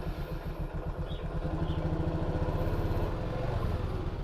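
An old stock Yamaha MX motorcycle with a ported engine idles while warming up, with a close, steady low putter and a light mechanical clatter, moderately quiet with no talk.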